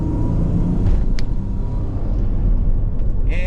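A Dodge Caravan, running well again after a fault was fixed, drives along with a steady low engine and road rumble heard from inside, continuous and fairly loud throughout with no talking.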